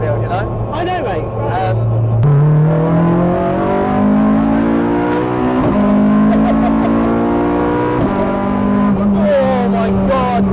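A K24-powered Honda Civic hatchback with a sequential gearbox pulling hard from inside the cabin, engine note climbing steadily with quick upshifts at about two and eight seconds, loud and continuous under excited voices.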